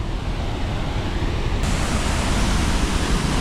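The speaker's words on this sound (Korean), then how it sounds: "진짜 세다 폭포가 짧고 강렬해" A powerful waterfall in Slovenia roars steadily, a dense, loud broadband rush that stays constant from start to finish with no voices.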